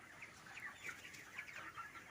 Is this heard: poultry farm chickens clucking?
yes